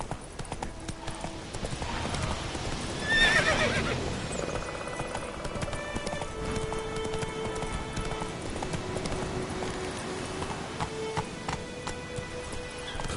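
Roach the horse gallops in The Witcher 3 with steady, rhythmic clip-clopping hoofbeats, a whinny rising briefly early on, over faint ambient game sound.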